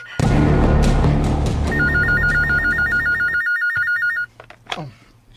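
An electronic telephone rings loudly inside a house in a rapid warbling trill that lasts a couple of seconds before cutting off, followed by brief clicks and faint rustling.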